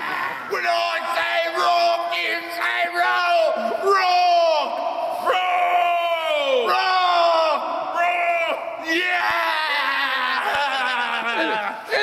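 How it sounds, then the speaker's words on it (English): Rock show crowd at the Winter SPAC show cheering, yelling and whooping loudly and continuously, many voices overlapping in a dense roar of shouts. "The crowd goes wild."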